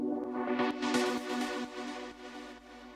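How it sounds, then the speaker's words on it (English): A plucky synth preset, Myon from the Spire synthesizer, plays bright, short repeated notes over sustained tonal layers, fairly quiet and gently fading toward the end. "Finally, another Spire, which is another Myon preset. Again, it's another plucky sort of sound."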